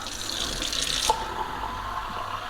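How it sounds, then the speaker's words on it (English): Water from a tap runs steadily into a glass of elderflower cordial, a continuous close splashing and trickling flow with a brief clink partway through, no voices. "add a bit of water to it"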